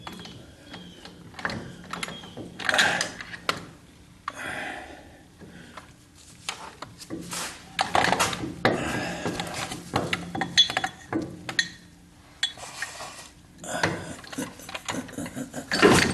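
Power wrench working on a half shaft of a 1976 Corvette restomod, bursts of mechanical whirring and ratcheting clatter in several runs separated by short pauses, close and moderately loud with no talk.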